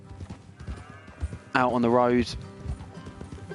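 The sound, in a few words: horse hooves clip-clopping in a PS4 video game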